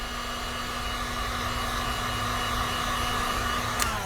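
A heat gun blows steadily at close range, heating dry-apply color PPF wrap film with a constant whooshing hum that runs unbroken, ending with a brief click.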